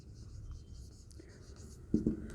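A pen writing out an equation during a physics lesson on current density, with quiet scratchy strokes and a couple of sharper taps near the end, all faint and close.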